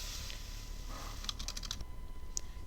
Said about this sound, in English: To type in a text box, simply left-click in the box and start typing.